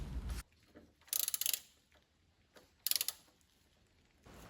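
A ratchet tightens the nut on a classic Jaguar shock absorber, sounding as two close, quick bursts of clicking with quiet pauses between them and a few faint mechanical clunks.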